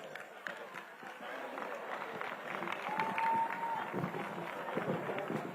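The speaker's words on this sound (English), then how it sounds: "I think the MD deserves another round of applause." Audience applause at the Niger Delta Games in Benin after a speech by the MD, a moderate, continuous crowd clapping heard from some distance, swelling slightly midway.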